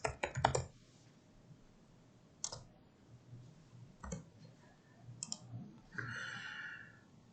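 Several sharp, quiet clicks from a computer mouse, spaced irregularly across a few seconds in a quiet room.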